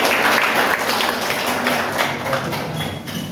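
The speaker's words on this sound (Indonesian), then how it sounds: "Tepuk tangan kita semua." An audience claps together at a university teacher training session, a loud, close burst of mixed hand claps that stays dense and gradually softens over about three seconds.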